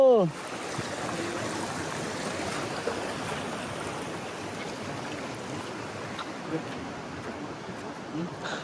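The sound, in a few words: stream water flowing during a river crossing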